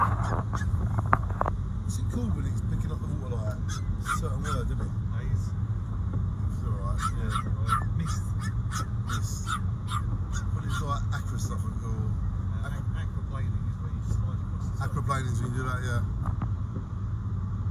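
Continuous hiss and roar of a truck throwing up spray on the wet M1 motorway in heavy rain, a steady loud wash of tyre and water noise, with a person talking over it.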